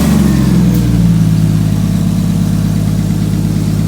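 A Nissan Skyline's engine cold starts, with a brief rising rev and then a steady, loud, low idle drone that holds without a break.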